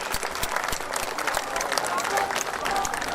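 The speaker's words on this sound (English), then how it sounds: "I think a quick round of applause for our on the water operators is required." An audience at a model show at Sumners Pond applauds steadily, a dense wash of clapping that holds at full strength throughout.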